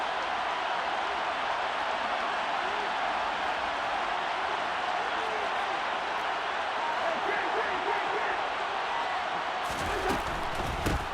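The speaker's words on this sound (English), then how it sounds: "Crowd getting in it a bit already" Stadium crowd noise in an American football video game, a steady, fairly distant wash of cheering that swells slightly before a clattering burst near the end, under a commentator's voice.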